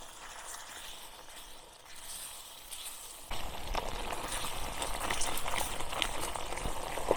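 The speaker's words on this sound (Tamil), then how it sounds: "சூப்பராக கொதிக்கிறார் பாருங்கள்" Steady bubbling and crackling of beef curry boiling in a clay pot over a wood fire, growing louder and denser partway through, with faint wood-fire crackle and no talking.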